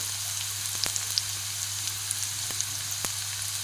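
Chili powder and Kashmiri chili powder sizzle in hot oil for egg biryani, a steady close hiss broken by a few sharp pops and crackles.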